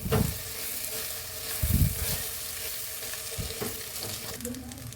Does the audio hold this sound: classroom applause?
no